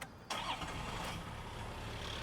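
A 4.2-liter naturally aspirated diesel engine in a Toyota Land Cruiser cranks briefly and catches almost at once, settling into a loud, rough, steady clatter heard close with no talking.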